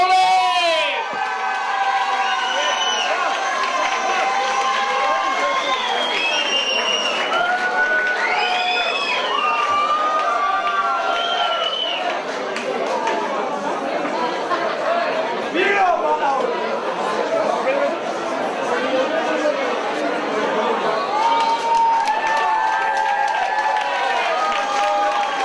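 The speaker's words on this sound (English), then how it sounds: "let's have a massive round of applause for our runner-up this evening" Crowd noise at an MMA event: a large audience chattering, cheering and shouting continuously and loudly throughout, with scattered applause mixed into the steady roar.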